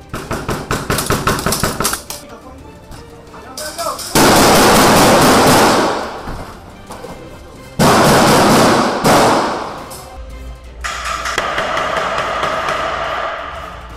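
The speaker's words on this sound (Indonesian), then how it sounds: "HK-MK23 Mod Zero. Nice punch there." An HK MK23 Mod Zero pistol fires loud, sharp shots, some in quick succession and others as heavy single reports that boom and ring out.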